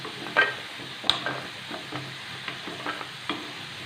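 Potatoes fry in a pan for a potato omelet, a steady sizzle broken by repeated scraping stirs of a spatula, close and without talk.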